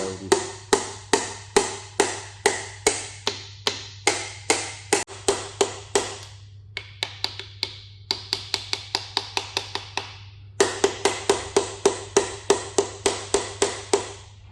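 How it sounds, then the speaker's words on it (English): A small hammer taps pistons into an engine block in steady runs of sharp, ringing metal strikes, about two per second, pausing briefly between bursts over a low constant hum. "Then we just get our little hammer,"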